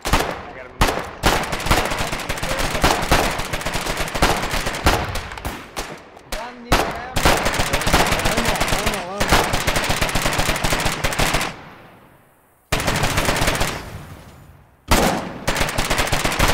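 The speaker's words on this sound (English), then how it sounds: "Machine gun! Machine gun, we need the machine gun on the rifle garrison northwest." Loud machine gun fire in the war video game Foxhole, long rapid bursts broken by short pauses and one longer gap, trailing off near the end.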